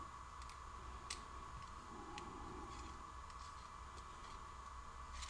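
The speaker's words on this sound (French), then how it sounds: "On va enlever le deuxième boulon." A bolt is removed while a car mirror is installed, with faint, sparse metallic ticks and clicks over a quiet, steady background hum.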